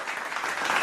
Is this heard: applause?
yes